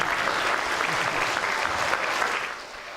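An audience claps after a singing saw demonstration at a science show, a steady burst of applause that holds for a few seconds before tapering off, with a voice faintly underneath.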